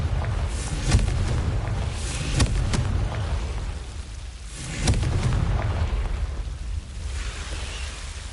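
Confringo blasting spell explosions in the Hogwarts Legacy video game: several deep booming blasts with rumbling tails at about one, two and a half and five seconds, over a continuous low ambient rumble, with no talk.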